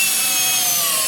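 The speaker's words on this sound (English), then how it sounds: "The drill driver, we're in speed 2 on these construction screws." Bosch 12V brushless drill driver in speed 2 driving construction screws into wood, a loud, steady high-pitched motor whine with grinding friction, close and continuous for the whole moment.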